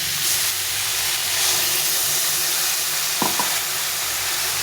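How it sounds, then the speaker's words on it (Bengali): Ridge gourd curry sautés in a pan after lentil water is added, giving a steady, loud, close hiss and sizzle, broken once by a short scraping stir. "এই ডাল জলটা দিয়ে কষিয়ে দেবে"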